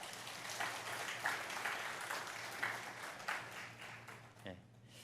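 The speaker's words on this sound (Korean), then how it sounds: "자, 우리 새로 오신 분들 한번 박수로 환영해 주시기 바랍니다" An audience in a Friday Bible study gathering at a church claps to welcome newcomers, a steady wash of applause that swells and then tapers off near the end, with a low hum underneath.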